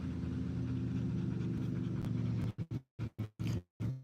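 A puppy pants rapidly and steadily close by, then breaks into a few separate huffing breaths.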